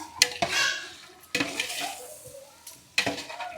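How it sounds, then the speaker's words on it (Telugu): Turmeric is stirred into a cooking pan with a metal utensil, making a few sharp scraping clatters against the pan, separated by quieter stretches of soft stirring and a faint background sizzle. "ఇక పసుపు వేసుకుందాం. బాగా కలిపెట్టుకుందాం."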